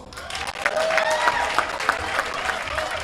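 An audience at a Liberian association's 50th anniversary celebration breaks into a round of applause, sustained clapping from a crowd with a few brighter individual claps and some faint voices mixed in.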